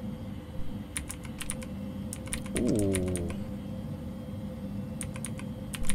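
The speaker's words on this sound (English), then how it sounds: "I feel like I'm actually on a keyboard right now" Rapid bursts of computer keyboard typing in the horror video game Fears To Fathom, clustered keystrokes in short runs, with a brief tonal sweep midway and a voice remarking faintly.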